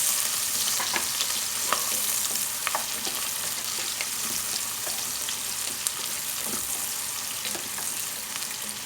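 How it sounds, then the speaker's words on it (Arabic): Onions sauté in hot ghee, a constant close crackling sizzle with scattered soft clicks and scrapes as they are stirred in the pan, fairly even in loudness throughout and free of speech. "هنزل بالبصل بتاعي الاول، بسم الله. انا مش هحمر يا جماعه، انا هدي بس تقليبه كده تشويحه"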